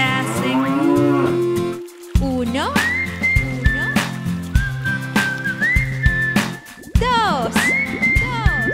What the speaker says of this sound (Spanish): Cuatro. Vacas que hacen.